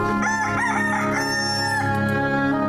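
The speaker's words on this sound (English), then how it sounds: "I think you've got the essence of Cockerel there" A recorded rooster crows one long cock-a-doodle-doo, loud and close, its strained wavering call filling the whole moment alone.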